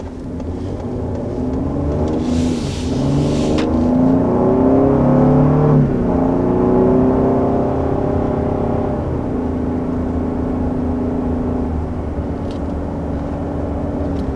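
A 2020 Lincoln Aviator's engine revs in Excite mode, swelling into a smooth, loud, rising drone that holds steady and then eases back, heard from inside the cabin with no talk over it.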